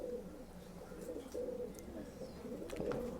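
Soft, low cooing from a male pigeon kept as a breeding bird, repeated murmuring phrases close by over a steady background hum, with no talk.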